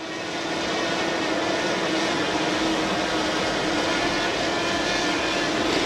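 A Potensic Atom drone flies in sport mode, a steady, close, loud whirring hum of propellers that holds constant throughout.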